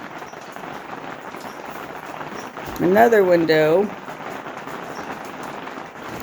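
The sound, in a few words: loud rain on a yurt roof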